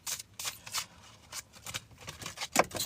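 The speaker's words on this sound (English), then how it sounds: "3 more shuffles" A deck of tarot cards is shuffled by hand in a series of quick riffling, papery bursts, close and distinct with brief gaps between them and no talk.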